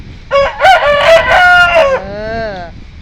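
A rooster crows loudly and close up in one long, wavering cock-a-doodle-doo that trails off at the end, with faint background noise and no talk.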